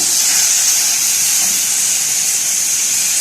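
Boiled meat sizzles in a hot pan for a dish of green beans, giving a loud, steady, unbroken hiss that holds evenly from start to finish.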